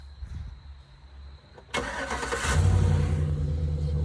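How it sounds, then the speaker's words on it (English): A big truck engine cranks and catches, a quiet low rumble giving way to an abrupt loud start that settles into a deep, heavy idle, close by. "It's a loud truck."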